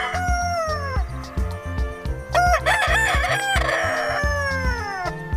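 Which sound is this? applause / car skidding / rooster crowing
rooster crowing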